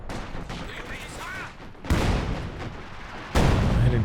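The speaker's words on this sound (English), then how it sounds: "There's this barrage coming out." An artillery barrage in the Company of Heroes 2 strategy game, with two heavy booming impacts and crackling fire among scattered distant shots, while a commentator talks underneath.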